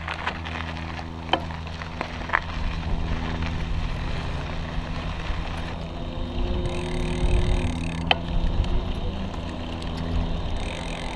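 Polaris Apex electric bike motor running while the rider pedals in a high gear, a steady hum with rushing wind noise, occasional clicks, and a change partway through as the assist cuts out.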